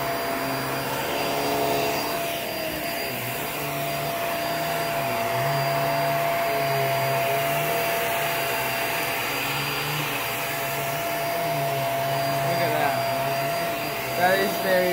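A Hoover React Professional Pet vacuum cleaner runs steadily on a rug with a loud, continuous motor drone and a high whine, a faint voice briefly audible underneath.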